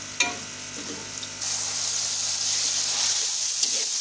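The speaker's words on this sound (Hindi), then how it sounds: "खड़ा मसाला भी हमारा हल्का सा फ्राई हो गया है।" Whole spices for chicken biryani frying lightly in hot oil, giving a loud, steady sizzle with a sharp crackle near the start and a few small clinks of stirring.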